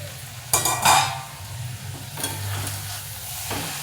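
Mixed leafy greens cooked with masoor dal sizzle softly in a pan while a spoon stirs and scrapes, with a couple of louder stirring strokes over a low steady frying hiss.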